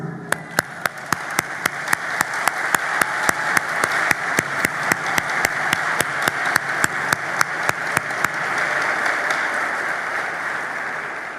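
Audience applause at a Haitian political speech, a steady wash of crowd clapping with a few sharp louder claps standing out, fading gradually toward the end.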